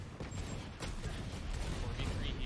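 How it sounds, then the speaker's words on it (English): Rapid gunfire in the video game Valorant crackles in dense bursts, overlapping shots ringing out over a low rumbling background, steady and fairly busy throughout. "you hear just gunfire erupt across the site"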